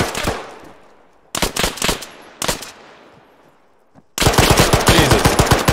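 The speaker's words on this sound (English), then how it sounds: "Are they gonna shoot? Yes, they're gonna shoot." Arma 3 gunfire rings out in loud, close automatic bursts, three short rattling volleys with echoing tails, then a sustained rapid stream of shots to the end.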